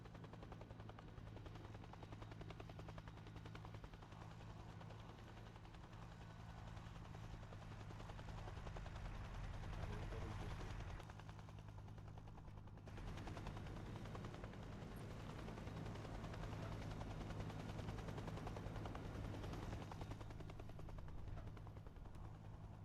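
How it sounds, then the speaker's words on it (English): A helicopter in the video game ARMA 3 gives off a dense, continuous rotor and turbine roar that stays loud and close throughout, with distant gunfire crackling underneath. "Hold on, his helicopter is back."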